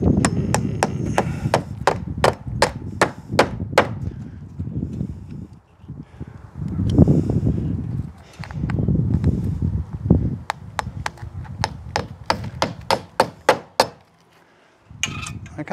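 Nails go through roofing felt on a shed roof in bursts of sharp, rapid hammer blows, up close and loud, broken by duller thuds and short pauses between runs of strikes.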